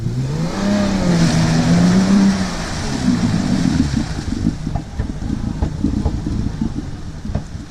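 An FJ Cruiser engine revs in rising and falling surges, then settles into a rough idle with a series of sharp pops like backfires, close and fairly loud, out on rutted off-road trails.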